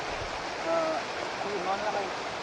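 A river flowing near the Mandala waterfalls, a steady rushing stream with gurgling water close by, continuous under people talking.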